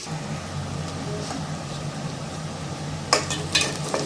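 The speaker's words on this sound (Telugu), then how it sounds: "ఉల్లిపాయలు వేసుకున్నాం కదండి ఈ బ్రౌన్ కలర్ వచ్చిందాక ఈ బాగా కలర్ వచ్చిందాక వేసుకుందామండి" Sliced onions fry in a pan until brown, giving a continuous low hiss and sizzle with a faint hum underneath, then two sharp clinks of a utensil against the pan near the end.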